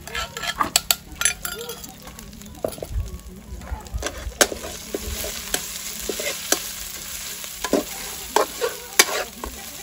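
Homemade hand-pounded curry paste stir-fried in a pan for spicy Thai frog curry, with steady sizzling, scraping stirs and occasional clinks of utensil on metal, a voice speaking intermittently over the cooking.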